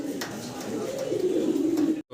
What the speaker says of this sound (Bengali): খুব চঞ্চল নড়াচড়া করতেছে দুইটা কবুতর দেখেন